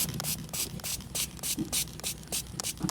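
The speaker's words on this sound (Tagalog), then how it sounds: "Konting spray lang, pahapyaw lang." A hand spray bottle mists freshly planted koala plant cuttings in quick repeated bursts, about nine sharp hissing puffs in a steady rhythm, close and fairly quiet.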